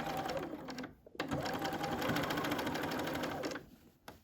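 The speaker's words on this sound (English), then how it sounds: "And then I come to my machine over here and I'm going to sew on that line." A sewing machine stitching a tote gusset, rapid close mechanical needle chatter running in two bursts with a short pause between and a brief stop near the end, no talk.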